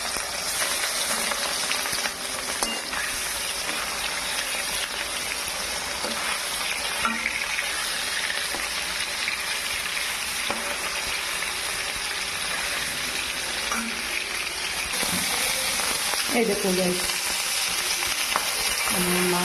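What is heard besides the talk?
fish frying in hot oil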